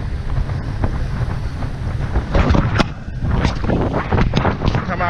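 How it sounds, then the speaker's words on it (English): Strong wind buffets the microphone at a seaside jetty near Port Canaveral, a constant low roar with gusts that swell louder around the middle and end, jet skis out on the water nearby. "It is windy today."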